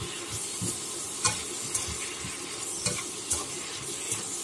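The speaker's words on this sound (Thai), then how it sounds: "ผัดง่ายๆค่ะเพียงแต่แค่เราให้ไฟแรงๆหน่อยเนาะเวลาไฟแรงๆผัดจะอร่อยมากเลยนะคะ" Mixed vegetables stir-fried in a wok over high heat, with a steady sizzle and intermittent scraping strokes of the spatula at close range, no voices.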